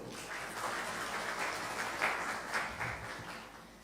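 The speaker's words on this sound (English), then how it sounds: "So a big round of applause for all of you." Workshop attendees applaud together in a hall, a moderate steady round of clapping that swells slightly midway and then tapers off.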